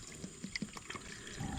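Water poured into a cooking pot holding fish simmering in coconut milk, a steady splashing liquid sound over about a second and a half, close by.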